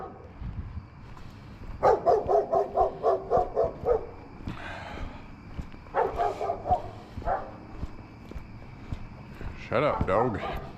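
A dog barks at night on a city street in Lewiston, Maine, in several bursts of rapid, moderately distant barks separated by pauses, with someone talking and walking in between.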